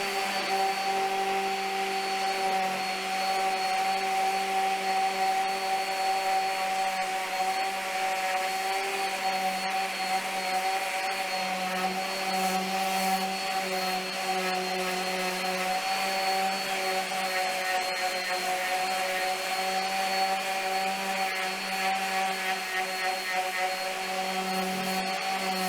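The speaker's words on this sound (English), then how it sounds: "Then I'm going to use a orbital sander to just round off the edges and get it all cleaned up." An orbital sander rounds off and cleans up the edges of wooden farmhouse table parts, giving a steady, loud electric whine with a constant rough hum that runs unbroken and close up, with no talk.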